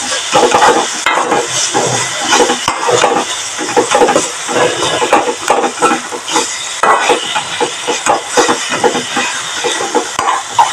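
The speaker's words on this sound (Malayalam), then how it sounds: "അതിട്ട് ഇളക്കാം." Grated coconut is stirred in a hot frying pan for an egg thoran, giving a loud, continuous rough hiss with busy scraping and rustling throughout. No speech.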